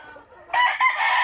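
A brassback gamecock crows once, close and loud. The burst is short and begins partway through, after a quiet moment.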